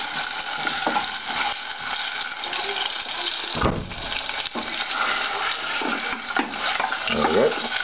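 A slice of lamb breast fries in olive oil in a pan, giving a continuous hiss and crackle with occasional scraping and stirring noises and a louder clatter midway.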